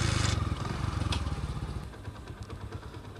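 A scooter engine starts and rumbles loudly at first with a coarse, pulsing chug, then settles into a quieter, uneven idle with light clattering, close by outdoors in a village field.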